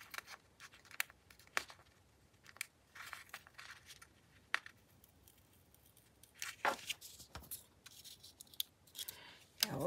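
Scissors trim craft material in a close, irregular series of snips and crinkling handling noises spread across the stretch, with no speech.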